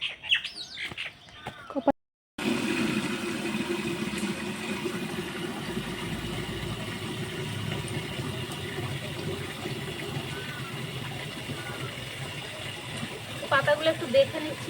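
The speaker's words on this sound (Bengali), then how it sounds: "চলুন তাহলে পাতাগুলো ভালো করে ধুয়ে নিই" Taro leaves are washed in water in a village kitchen, with a steady, close rush of splashing water running without a break after a short pause. Faint sounds break in near the end.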